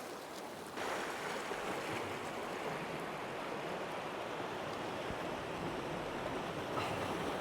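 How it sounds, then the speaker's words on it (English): Sea waves wash and surge continuously against rocks on the UK coast, a broad steady roar of surf with a heavier swell building after the first second, no voices. "Every now and again, get these big rollers coming through from the north."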